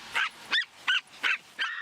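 Five sharp, high-pitched yappy barks from Pomeranians, evenly spaced and fairly close, with brief quiet gaps between them.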